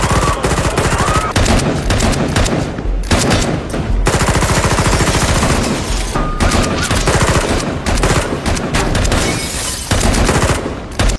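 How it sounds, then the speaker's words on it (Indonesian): A police shootout fills the scene with dense, loud gunfire: rapid bursts and overlapping shots crack almost without a break, close and harsh. "terjadilah kontak senjata dar-der-dor di antara mereka"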